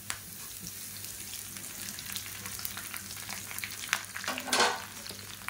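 A handful of curry leaves crackles and sizzles in hot oil in a kadai, a steady fine frying hiss with small pops and a brief louder flare near the end.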